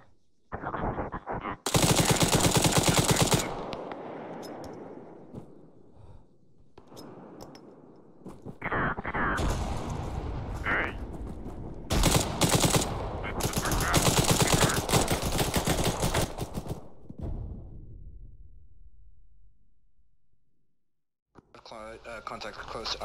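Bursts of automatic rifle and machine-gun fire in a military shooter, Arma 3, loud and sustained, with sharp volleys interrupting near-continuous shooting and radio-style voices talking over the battle.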